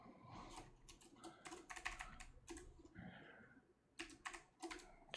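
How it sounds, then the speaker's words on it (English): Quick bursts of computer keyboard typing while coding backend software, clusters of crisp key clicks separated by short pauses, close and fairly quiet. "Typing."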